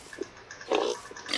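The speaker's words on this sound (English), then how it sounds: "come here, Jeffrey the pig" A pig in a survival video game gives short grunting oinks, a small one early and a longer, louder snort in the middle, followed by another burst at the end.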